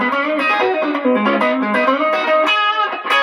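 Electric guitar driven through an overdrive pedal with the gain turned up, producing a thicker, gritty tone as notes and chords ring out continuously, close and loud, with no voices.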